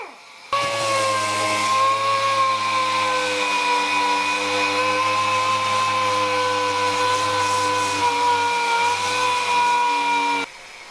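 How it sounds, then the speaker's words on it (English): A power sander works a wooden toy box lid with a live edge and resin, giving a steady, close motor whine that starts abruptly, holds evenly for about ten seconds, then cuts off. "So I sanded this smooth to keep some of the live edge character."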